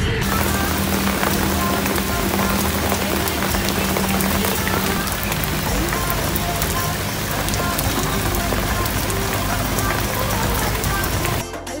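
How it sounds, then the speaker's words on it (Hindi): Heavy rain pours steadily throughout during an outdoor shoot for a naat music video, a loud, dense continuous hiss of drops on surfaces with no letup. "बहुत तेज़ बारिश हो रही है"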